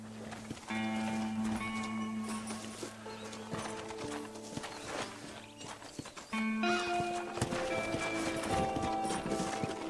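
Horse hooves clip-clop at a steady gait in the Red Dead Redemption video game, with occasional neighing and whinnying over a continuous music score, fairly close and prominent.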